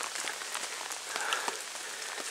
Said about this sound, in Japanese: 昼から雨止むいうことやったんやけど、なかなか止みませんね。